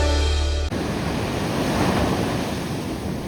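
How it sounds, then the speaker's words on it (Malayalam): Heavy monsoon sea waves crash onto the Kasaragod coast during severe sea erosion, a loud continuous roar of surf mixed with wind buffeting the microphone, following a brief cut from a music segment. "ഓരോ കാലവർഷവും ഈ തീരത്തേക്കെത്തുന്നത് ഭയത്തിന്റെ കൂറ്റൻ തിരമാലകളുമായാണ്"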